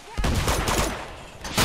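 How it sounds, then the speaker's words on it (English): Gunfire in the video game Uncharted 2: Among Thieves, a dense burst of rapid shots crackling close and loud, with a fresh volley at the end. "bullets"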